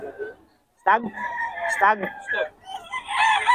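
A young stag rooster crows at a Bocaue Day gathering, with two or three rising, wavering calls close by, followed by more high crowing and someone talking over it.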